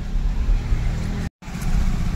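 Road traffic crawls in a heavy jam: a steady rumble of cars and engines close by, broken by a brief dropout to silence before the noise resumes.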